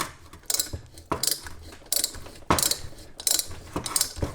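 Hand tap cutting threads into an aluminum Muncie gearbox case, worked back and forth to give a rhythmic series of close, gritty ratcheting scrapes in short strokes, with no talk.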